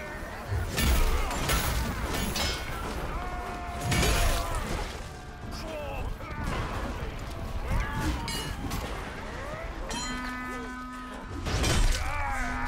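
A wall smashed apart during a Chivalry 2 medieval melee battle, with repeated loud crashing impacts and breaking debris amid chaotic combat noise, shouting voices and a brief animal-like bellow.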